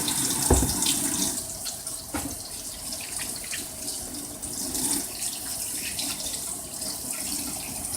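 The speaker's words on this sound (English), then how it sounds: "I'm going to wash my hand, get all of that batter off of it." Batter is washed off a hand under a running kitchen tap, a steady close rush of water with splashing and small shifts as the hand moves in the stream.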